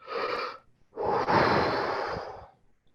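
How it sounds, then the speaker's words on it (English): Deep breaths drawn close to the mic before a low C on a wind instrument, with two long audible airy inhalations, the second longer and fuller, with nothing else heard. "The next thing I do, take another deep breath."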